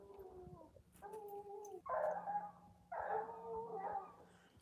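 A hunting dog howls and yips on a mountain lion hunt in a desert bighorn sheep range, a series of long wavering howls and higher cries at a moderate distance, with no talking.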